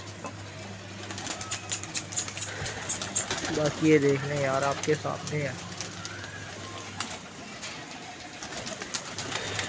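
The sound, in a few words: pigeons cooing at a pigeon club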